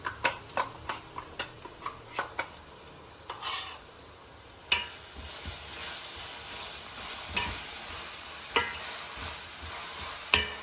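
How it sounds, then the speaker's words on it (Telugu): Onion paste frying in a pan for arbi curry: a string of light ticking taps gives way to a steady, quiet sizzle with occasional sharper clicks. "ఈ ఉల్లిపాయలు కూడా వేగాలి చక్కగా ఇది ఉల్లిపాయలు ఉల్లిపాయల పేస్ట్ మొత్తం మంచిగా వేగలుగుతాం"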